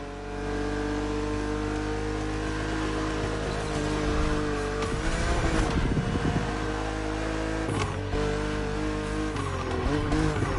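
A BMW Z roadster in The Crew Motorfest drives with a steady droning engine note that rises and revs throughout, with a couple of brief rougher surges and no talk.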